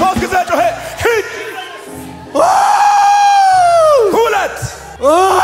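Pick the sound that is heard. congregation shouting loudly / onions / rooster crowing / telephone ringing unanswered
congregation shouting loudly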